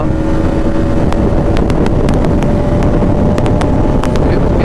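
A Bajaj Pulsar NS200 motorcycle runs at high speed through the upper gears, its steady engine drone largely buried under loud, constant wind roar.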